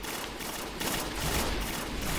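Rapid gunfire from a weapon in a PvP video game match, a dense unbroken burst of shots emptying the magazine in close, loud succession.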